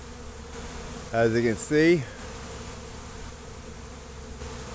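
Bees from a caught swarm, with a couple of brief, loud buzzes passing close by between quieter stretches, while someone talks.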